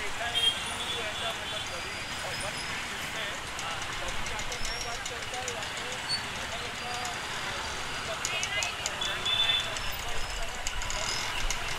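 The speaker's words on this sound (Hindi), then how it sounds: "कितना ट्रैफिक है यार" Road traffic heard from a motorbike on a busy Indian road: a steady wash of engine and tyre noise with hiss and occasional higher clatter, continuous and fairly close, with a voice partly over it.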